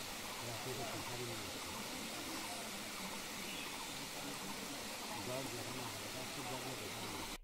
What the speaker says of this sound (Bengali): ঝিরি ধরে হাঁটতে হাঁটতে পথে দেখা মিলল চিংড়ি ঝর্ণার